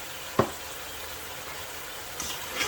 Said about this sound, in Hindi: मिक्स कर लेंगे, साथ साथ मिक्स करते जाएंगे।